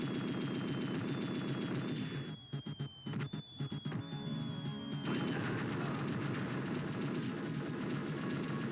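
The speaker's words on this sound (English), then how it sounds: "you can toss that in the air, walk away, and it will explode around your enemies" Grenade blast and battle sounds from the Army Men: Operation Green video game, a dense, loud run of game gunfire and crashing impacts with a brief sharp burst cluster in the middle, steady music-like game sound throughout, no speech.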